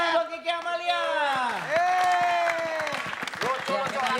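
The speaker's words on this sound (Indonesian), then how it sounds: "Kita kasih tepuk tangan buat Kiki Amalia." Studio audience applause and cheering for a comedian on a stage comedy show, a crowd clapping steadily under a host's sustained, singing-like voice that glides across the whole stretch.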